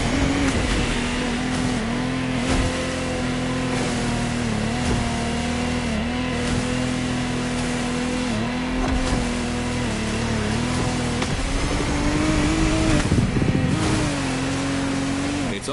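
Powerful engine drone of the Lamborghini Technomar offshore powerboat in the racing game The Crew Motorfest, a steady loud roar with shifting pitch and revs, running continuously throughout with no talk.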